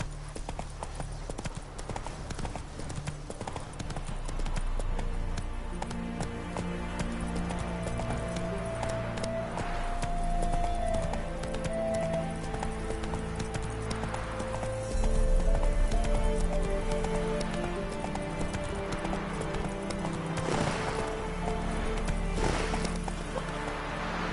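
Hooves clip-clopping steadily as a horse gallops in The Witcher 3, a continuous rhythmic drumming with an occasional whinny over a bed of game music.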